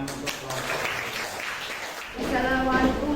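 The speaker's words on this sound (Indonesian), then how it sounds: "Berikan tepuk tangan untuk kelompok." An audience claps for a presenting group during a teaching performance exam at UIN Imam Bonjol Padang. Steady applause fills the first two seconds, then it fades and a voice begins speaking.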